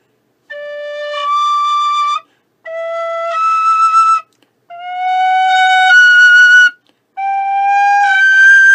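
An untweaked Freeman Generation tin whistle plays four sustained phrases of clear, bright notes with short gaps between them, sounding alone and close.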